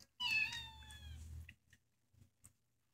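A cat gives one loud, drawn-out meow close by, followed by a few faint short sounds and quiet rustles.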